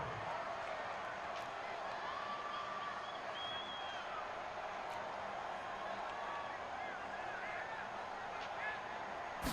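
A stadium crowd in an American football video game cheers and roars steadily as a big third down approaches, a dense continuous wash of voices with a few whistle-like calls rising above it.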